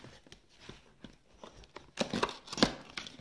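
Packaging of a Stitch-themed mystery bag being torn open by fingernails, giving faint scratching at first, then a louder burst of crinkling and ripping near the end, close to the ear.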